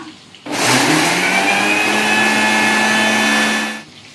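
A kitchen mixer grinder starts up and runs loud and close as a steady high whine with a buzzing hum for about three seconds, then cuts off, no voices.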